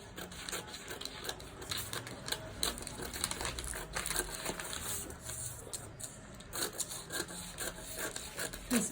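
Scissors cutting out the neckline of blouse fabric, a steady run of close, soft snipping and rasping strokes repeating across the whole stretch, moderately quiet with no talk.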